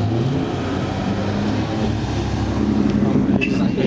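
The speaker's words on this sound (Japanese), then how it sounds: "さあ、大きなエンジンを乗せて今スタートです。" A Mercedes-Benz 300SL Gullwing with a big engine starts and drives off at a classic car rally, a steady deep engine rumble that swells slightly toward the end under an announcer's voice.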